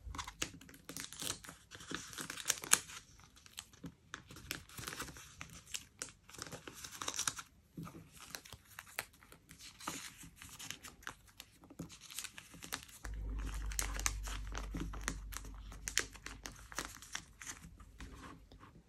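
Plastic binder sleeves crinkle and rustle up close as K-pop photocards are slid into a binder, with soft intermittent handling sounds and a low steady hum joining near the end.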